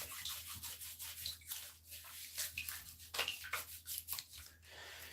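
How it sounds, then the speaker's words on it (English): Toes are scrubbed by hand to remove barnacle-like buildup, making a series of rough, close rubbing strokes that rise and fall in an uneven rhythm over a faint low hum. "First thing I like to do is try and scrub as much of the barnacles off my toes as I can"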